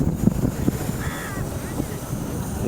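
Sea waves washing against rocks at Dabhari Beach near Surat, under gusty wind buffeting the microphone, with a faint bird call in the background.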